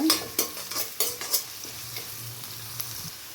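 Chopped onion and curry leaves fry in oil in a pan, a soft continuous sizzle under several scraping spatula strokes that fade into quieter frying, close up.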